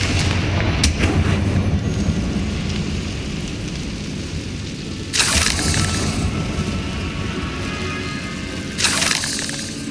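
Confringo blasting spell explosions in Hogwarts Legacy, two sharp booming bursts a few seconds apart that rise out of a rumbling, rain-like game ambience.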